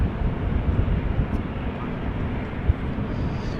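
A NetJets business jet arriving at Amsterdam Schiphol Airport in wet, windy weather gives a steady, loud, broadband engine roar that holds throughout, heard from outdoors with some wind buffeting.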